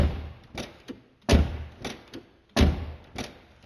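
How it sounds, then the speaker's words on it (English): A heavy door on a 1989 Mercedes 560SL shuts with solid, deep thuds, closed three times in a steady rhythm, close by, each slam followed by smaller latch and handling knocks. "This is a heavy, real deal door, man."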